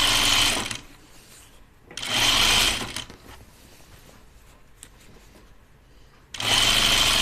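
A sewing machine stitching a dress whirs in three loud, close bursts separated by quieter pauses with faint handling clicks.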